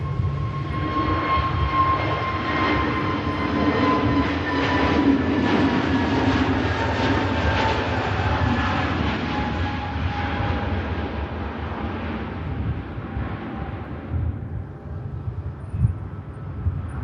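An EasyJet airliner lined up on the Manchester Airport runway, engines spooling up for takeoff: a loud sustained roar with rising and falling tonal whines that thins out toward the end, no talk.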